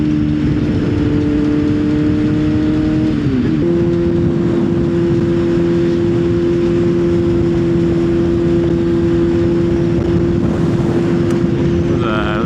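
A 600cc motorcycle engine while riding, a loud steady droning hum with a clear tonal whine that dips briefly as the revs shift, under constant wind buffeting.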